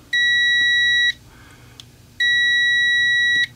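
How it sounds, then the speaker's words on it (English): A Klein Tools 80067 test kit multimeter gives two steady, loud electronic continuity beeps, each lasting about a second, separated by a short pause with faint background noise. "you get a beep when you get continuity"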